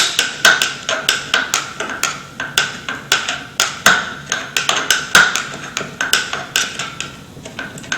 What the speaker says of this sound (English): Roughen up that surface.